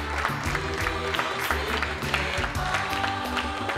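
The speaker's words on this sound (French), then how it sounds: "Applaudissez pour vos frères et sœurs qui nous ont dignement représentés." An audience at a departmental excellence-day ceremony in Keur Massar applauds the students, a fairly quiet, steady patter of clapping under a low musical drone, lasting the whole moment.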